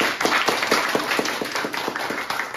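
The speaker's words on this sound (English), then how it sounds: "Clap for yourselves." An audience claps at a spoken-word and music event, individual claps distinct and rhythmic in a lively, fairly close wash of hands with no talking.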